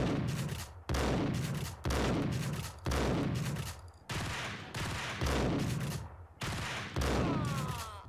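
Bursts of gunfire from the Max Payne PC game, eight heavy volleys in a steady rhythm about one per second, each loud onset trailing into reverberant decay.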